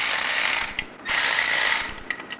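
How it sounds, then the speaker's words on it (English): A ratchet driving screws into a motorcycle headlight bracket on a Softail, loud close rapid clicking bursts, a short pause, then another long run tapering into a few slower clicks. "We're going to go ahead and run these screws down all the way."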